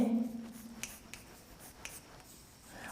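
Chalk or marker writing on a board during a lesson, a few faint scratchy strokes and taps spaced apart in a quiet room after a brief murmur at the start.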